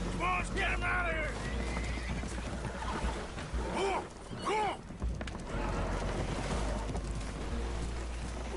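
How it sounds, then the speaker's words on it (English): Spooked horses on a damaged, leaking boat in the video game Red Dead Redemption 2 let out several loud, shrill whinnies in bursts, mixed with talking voices over a constant low rumble. "Horses are spooked, and we're taking on water."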